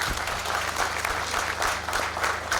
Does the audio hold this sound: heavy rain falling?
no